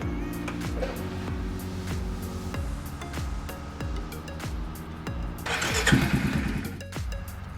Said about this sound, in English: start the engine and let it run for a minute